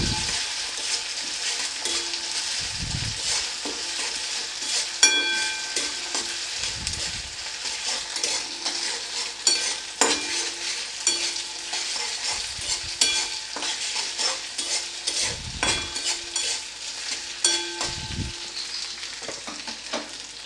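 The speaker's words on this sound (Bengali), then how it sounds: "পেঁয়াজ এবং আদা রসুনের যে কাঁচা একটা গন্ধ আছে, যতক্ষণ না সেই গন্ধটা চলে যাচ্ছে আমি এটা ততক্ষণ নাড়তে থাকবো" Onion, ginger and garlic paste fries in a pan with a steady sizzle while a spatula scrapes and stirs in irregular strokes, with occasional louder knocks against the pan, close and continuous with no talking.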